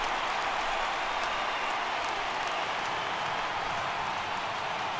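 Steady crowd roar in a video game baseball stadium, MLB The Show 18, with Boston Red Sox playing at the Los Angeles Angels, swelling as fans rise for a full count; dense, continuous and alone throughout.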